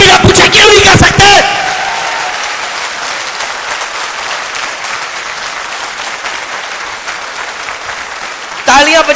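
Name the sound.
audience applauding at a seminar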